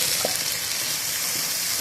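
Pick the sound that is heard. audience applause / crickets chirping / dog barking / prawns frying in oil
prawns frying in oil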